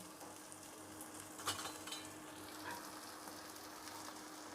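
Tomatoes fry in a pan for an egg omelette curry, giving a steady, fairly quiet sizzle with a couple of brief scraping stirs partway through.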